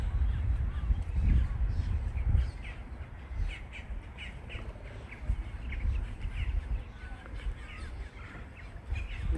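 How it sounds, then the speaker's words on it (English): Birds call noisily in tall cypress trees at a wetland preserve, with crow-like caws and chirps overlapping in a busy, fairly distant chorus over low rumbling background noise. "They're having an argument, those birds."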